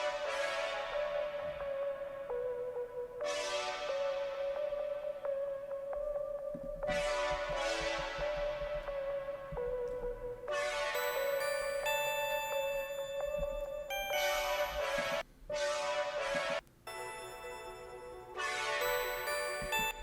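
Bright bell tones ring out a short repeating motif over layered synths, guitar and a steady rhythm in a dense indie pop mix, with bell strikes returning in bursts that pause briefly near the end.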